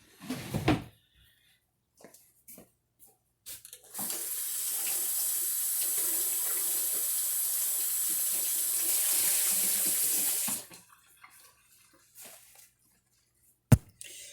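A kitchen tap runs for several seconds to wet a towel, a steady close splashing rush that starts abruptly and stops, framed by scattered handling knocks and a sharp clack near the end, with no voices.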